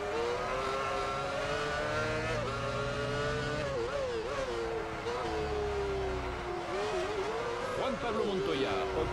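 Formula 1 race car engines in F1 Championship Edition: a high whining engine note rising and falling with gear changes, other cars droning underneath, while someone talks over it throughout.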